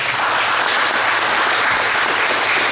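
Sustained audience applause at a school moving-up ceremony, dense steady clapping from a large crowd filling the whole stretch without a break.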